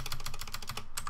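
Rapid spam clicking of a mouse in Minecraft PvP, a fast even train of close, sharp little clicks packed into about a second.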